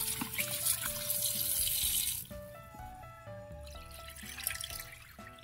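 Tap water runs over tilapia being washed for cooking, a steady splashing for about two seconds that then drops away, leaving quieter trickles and dish clatter.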